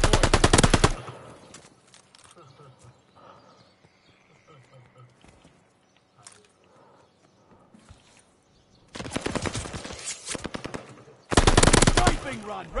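Loud bursts of machine gun fire in a video game, a long rattling volley at the start and two more near the end, with quieter game sounds and voices between them.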